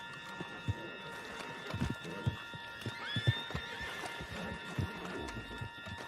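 A horse in Red Dead Redemption 2 clip-clops along at pace with rhythmic hoofbeats, and a whinny rises midway over the steady game ambience.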